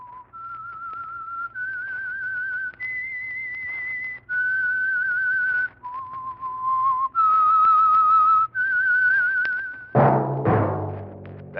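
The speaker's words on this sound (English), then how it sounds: "That whistle is your signal for the Signal Oil Program, The Whistler." A solo whistled melody opens The Whistler, the Signal Oil radio program. It moves through a series of clear sustained notes in a slow, haunting line before a sudden dense burst of sound cuts in near the end.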